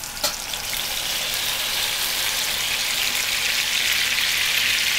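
Soy sauce and fresh-squeezed orange juice hit a hot frying pan of tuna with piquillo peppers in a restaurant kitchen, setting off a loud, steady hiss that swells after a brief splash and holds without talk.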